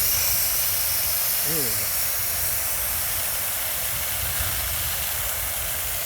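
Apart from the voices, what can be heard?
spraying chemical cleaner on car air filter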